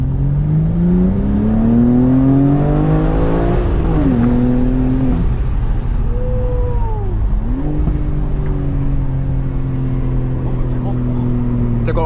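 A 2022 BMW M4 with a six-speed manual revs hard from inside the cabin, engine and intake note climbing through gears with sharp shift dips and rising sweeps, loud and continuous throughout.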